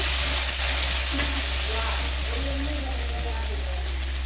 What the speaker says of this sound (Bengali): টমেটো দিয়ে এখন নাড়িয়ে নিতেছি ভালোভাবে